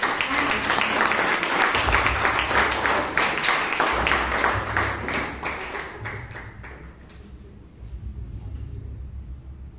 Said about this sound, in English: let's give a huge round of applause for the Sergeant at Arms